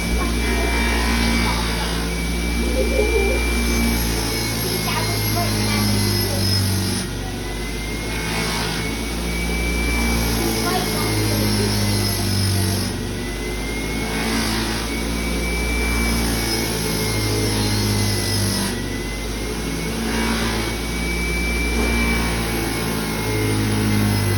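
A Sizall wheel from the FFT sharpening kit spins steadily with compound applied, giving a loud continuous motor hum and whine that dips briefly at regular intervals.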